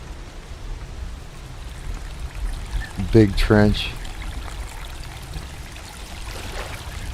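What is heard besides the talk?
flowing water in a video game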